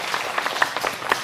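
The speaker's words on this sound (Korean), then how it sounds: "한번 축하 한번 박수해 드리겠습니다" A church congregation applauds in a short burst of scattered clapping, fairly close and loud, with individual claps standing out and no speech over it.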